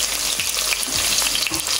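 Chopped onion, green chilli and curry leaves frying in hot oil for a chicken curry, a loud dense sizzle that stays steady and close throughout, with no voices.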